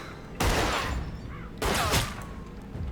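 Gunfire in the tactical game Tastee: Lethal Tactics: two loud, close bursts of rapid shots, the first lasting about a second and the second shorter, with quieter background ambience between them.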